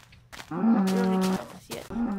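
A cow in Minecraft lets out a few short, close moos, with one longer drawn-out low call in the middle and nothing else around it.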